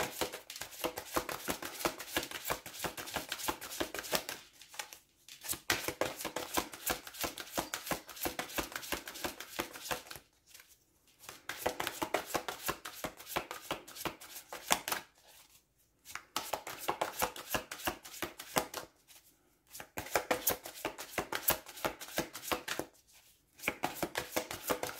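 Tarot cards being shuffled by hand over and over, a steady dense riffling and rustling broken by a few brief pauses, close and fairly quiet with no voices.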